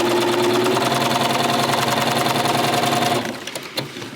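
A sewing machine with a walking foot stitches fabric for a pencil cup organizer in a steady, fast, loud whir of rapid needle strokes, stopping abruptly near the end and leaving quiet handling noise.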